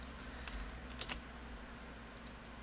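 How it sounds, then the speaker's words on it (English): Sparse, faint clicks of computer keyboard typing over a low steady hum, with a few isolated keystrokes spread across a quiet room. "I don't know why I'm going to bother typing this again."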